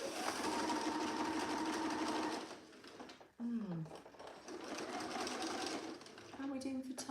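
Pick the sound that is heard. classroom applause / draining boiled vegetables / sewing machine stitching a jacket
sewing machine stitching a jacket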